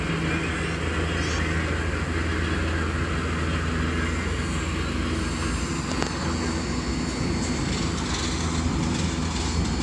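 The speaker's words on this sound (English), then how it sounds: "it's that exhausting steam that creates the chuffing sound you hear when you see a steam locomotive" A steam locomotive rumbles in a dense, continuous roar of engine and rail noise near Chattanooga, Tennessee, loud and unbroken throughout with no distinct chuffs standing out.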